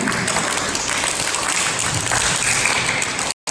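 An audience applauds in a school hall during a Gandhi Jayanti and Shastri Jayanti celebration, a dense, loud, continuous wash of many hands clapping that stops abruptly at the end.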